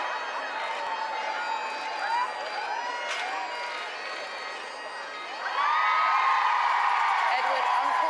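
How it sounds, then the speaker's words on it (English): A crowd outside Canongate Kirk cheering royal wedding arrivals, a distant mass of shouts and whoops that swells louder partway through, with someone talking over it. "The crowd very pleased by that wave for them"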